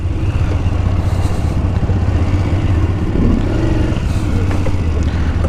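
A motorcycle engine runs steadily at close range on a mountain road toward Om Parvat near the China border, a continuous low rumble with a slight rise in revs midway and faint clatter over it.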